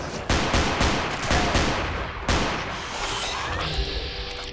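Rapid pistol gunshots in Fallout 4, about ten sharp loud cracks in quick uneven bursts with a short gap, then a fainter mechanical rattle near the end, no talking.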